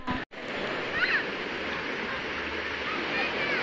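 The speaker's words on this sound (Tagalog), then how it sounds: "Medyo maalon today dahil sa amihan nga." Steady broadband wash of choppy sea surf with gusting northeast monsoon wind, continuous throughout, in Camiguin, with faint voices briefly audible in the background.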